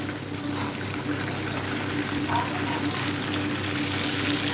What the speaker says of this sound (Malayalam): ആഹാ ചിക്കൻ പൊരിഞ്ഞുകൊണ്ടിരിക്കുന്നു